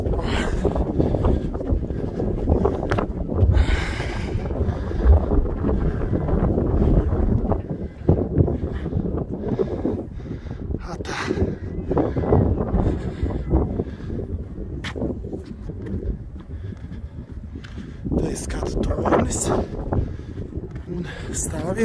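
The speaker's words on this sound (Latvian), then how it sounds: "Jā, žēl, ka vējš." Steady wind buffets the microphone outdoors at a Ventspils waterfront, producing a loud, continuous rumble with gusty swells throughout, while a person talks over it at times.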